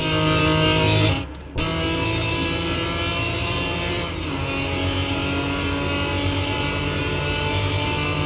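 A loud, steady Lamborghini Diablo engine drone in Car Mechanic Simulator 2021, holding high revs with a brief drop as it shifts, then straining on at constant pitch.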